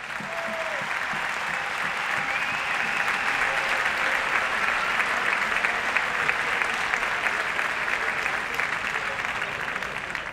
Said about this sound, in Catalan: Si us plau, un fort aplaudiment per tots ells.